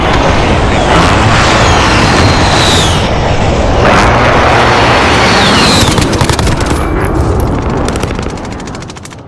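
Airstrike in a Call of Duty-style shooter, a loud dense barrage of blasts and rapid gunfire rumbling continuously, with whistling streaks overhead before fading toward the end.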